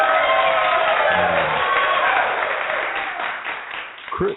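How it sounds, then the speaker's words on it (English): Studio audience applause and cheering for a guest on a podcast, a sustained, muffled wash of clapping and crowd noise that holds steady and then thins toward the end. "we're gonna give you this applause."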